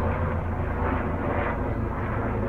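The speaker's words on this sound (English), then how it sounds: "There goes the chopper." Helicopter flying past outdoors, a loud, dense rotor and engine rumble that swells and fades slightly over a couple of seconds, with no talk.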